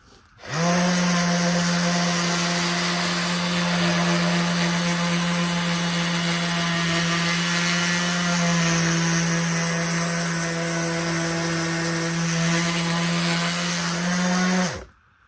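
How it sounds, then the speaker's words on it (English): A power sander with fresh sandpaper drones steadily over oak wood for about fifteen seconds, a loud, even motor whine with no pauses and no voices. "Whole lot of sanding. Got a brand new piece of sandpaper on there."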